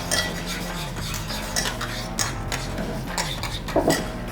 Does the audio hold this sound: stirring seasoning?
yes